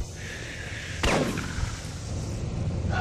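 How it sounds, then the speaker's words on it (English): A single sharp, loud blast of gunfire in the Doom 3 BFG Edition video game, cutting through a steady ambient hum with a short trailing echo before the drone resumes. "Who shot at me?"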